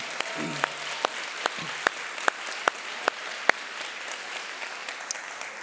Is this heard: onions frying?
no